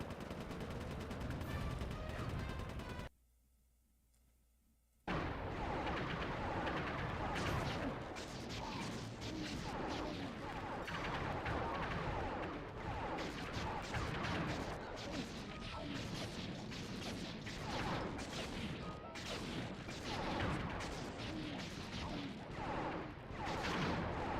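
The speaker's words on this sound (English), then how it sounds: "The strafing is insane." Rapid gunfire from aircraft strafing during an aerial dogfight in a video game, dense continuous bursts and impacts with a short silent gap near the start, loud and sustained with game music or effects mixed in.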